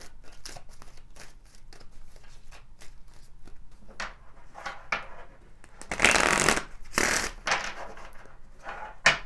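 A Kipper card deck being shuffled, with a run of quick papery riffles and slaps building to louder, fuller bursts of shuffling near the end, close and alone with no talking.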